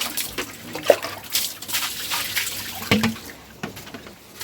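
Water running and splashing during washing in a bathroom on a rainy day, a close, uneven trickle and spatter with a few louder drips and knocks, heard alone without talk.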